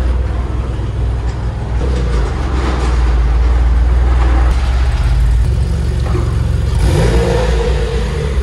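Porsche 911 engine running loud and close with a deep steady drone, swelling as it revs, with no voices over it.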